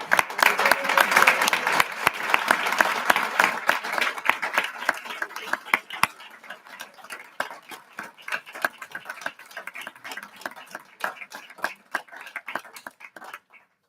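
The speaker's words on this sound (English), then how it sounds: "A round of applause for all of our" An audience at a school board meeting applauds staff being honored for years of service, a dense burst of clapping that gradually thins into scattered claps and fades out.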